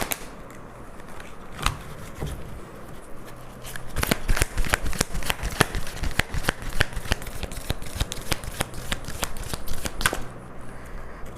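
Tarot and oracle cards being shuffled during a reading, a dense run of crisp riffling snaps and flicks that thickens in the middle, close and fairly loud with no voice.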